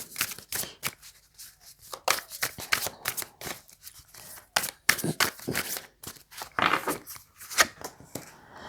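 Tarot cards being shuffled and drawn during a reading: a steady run of close, crisp riffling and flicking card sounds, with brief pauses between bursts and no talk.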